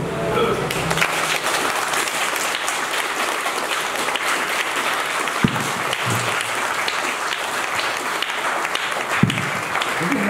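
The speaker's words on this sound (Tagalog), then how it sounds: "Bigyan naman po natin siya ng huling palakpak naman po." A crowd at a funeral applauds steadily and loudly throughout, with a couple of sharper knocks in the middle and end.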